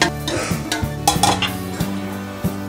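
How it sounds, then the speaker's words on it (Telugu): A spoon scrapes and clinks against a cooking pot while chicken with masala and tempering is stirred for Hyderabadi biryani, several distinct metallic knocks in an uneven rhythm, close and fairly loud. "చికెన్ వేసుకున్న తర్వాత 4 వైపులు మంచిగా ఈ చికెన్ని మసాలాని ఇవన్నీ కలిపి తాలింపు అంతా కలిపి మంచిగా కలుపుకోవాలి"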